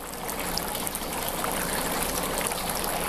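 Brewing wort recirculating through a mash grain bed gives a steady trickling, splashing stream of liquid, continuous and close with no talking.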